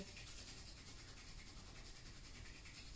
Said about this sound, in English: Starting to rub the palms briskly